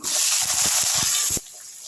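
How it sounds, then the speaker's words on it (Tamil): Chopped large onions tipped into hot oil in a pan while making sambar, a loud steady hiss of sizzling that drops to a softer simmering fizz after about a second and a half. "ஒரு பெரிய வெங்காயத்தை நல்லா கட் பண்ணி வச்சுருக்கோம் அதை இதில் சேர்த்துடலாம்"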